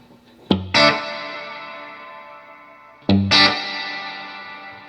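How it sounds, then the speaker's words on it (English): Two plucked guitar notes through an Ibanez ADL analog delay pedal, each struck sharply and then swelling into a long, washy reverb tail that fades slowly, giving a spacious, ambient sound. "we have this really spacey reverb in the intro."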